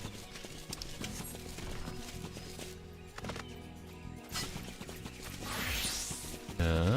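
Horse hooves clip-clop in Final Fantasy XIV as a player rides a mount, the steady game footfalls mixed under a busy music and effects bed, with a brief whinny-like burst and a loud thump at the end.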